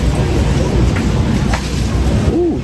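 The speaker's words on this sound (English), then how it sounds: "It says it's supposed to rain until at least 12. It's starting to slow down a little bit." Steady rain falls hard on a campsite, a dense continuous patter hitting tents and pooling water, loud and close throughout with no voices.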